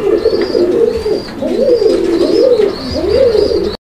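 Pigeons cooing at a Bangladeshi pigeon sale, including a pair of blue shirting pigeons; repeated rolling coos follow one another in a steady rhythm, close and fairly loud, with no talk over them.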